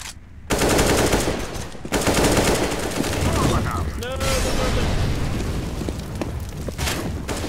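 Loud, dense bursts of automatic gunfire and booms from a video game shooter fill the clip almost continuously, with a voice speaking underneath.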